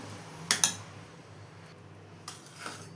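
Sugar syrup is stirred in a pan over a medium flame: a couple of sharp metallic clinks from the spoon, then softer scrapes over a faint background hum.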